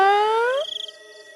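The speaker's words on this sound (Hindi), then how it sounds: "बिल्ली फिर भूतिया रूप लेकर नेहा को आवाज लगाती है" A cat, cast as a ghostly house cat calling out at night, gives a single loud, drawn-out meow that bends downward, then trails off into a fainter, wavering tail.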